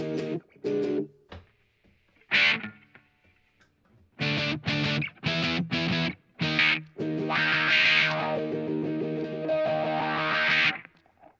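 An electric guitar plays through distortion and chorus pedals: short, separated chord stabs at first, then a run of choppy strums that swell into a longer, shimmering, saturated ringing chord before stopping.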